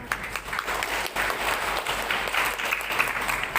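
A seated audience at a religious Maulid commemoration claps steadily, a dense, sustained wash of many hands that stays even and fairly close throughout.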